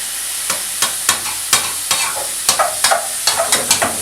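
Meat and potatoes fry in oil in a hot pan, a constant sizzle broken by a rhythmic run of scraping stirs and clatters from a utensil, close and fairly loud.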